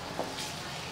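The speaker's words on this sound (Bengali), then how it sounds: "আর এই দেখতে পাচ্ছ খুন্তি নাড়ছি।" A spatula stirs food in hot frying oil at home, a soft, close sizzle with faint scraping strokes over one brief moment, no voices.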